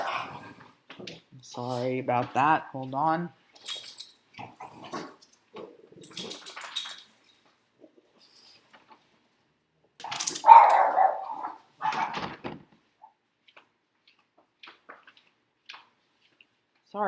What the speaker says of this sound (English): Crazy dogs on the loose.